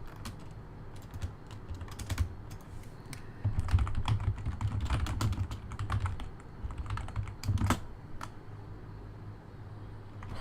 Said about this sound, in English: Let me type these out.